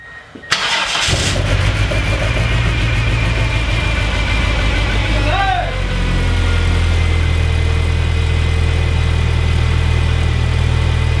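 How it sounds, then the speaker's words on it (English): Car with a 420A engine cranks briefly, fires up and settles into a steady, loud idle that runs on without pause, close to the listener and alone with no voices. "So, car starts. Car runs."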